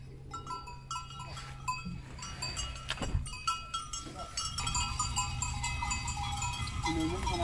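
Goats bleat amid a clatter of clanking bells, with a steady low rumble beneath; several animals sound fairly close.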